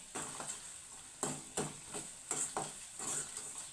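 Mustard and other tempering seeds sizzle and crackle in hot oil in a pan, a steady close fry broken by repeated stirring strokes.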